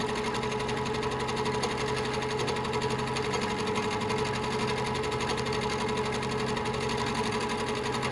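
A domestic sewing machine running steadily in manual mode for free motion quilting, a continuous close whirring hum with rapid needle rhythm throughout.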